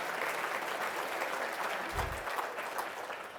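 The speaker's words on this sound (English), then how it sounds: "another round of applause." A room full of people at a 2016 health summit town hall forum claps in sustained, even applause at moderate loudness, with a brief low thump partway through.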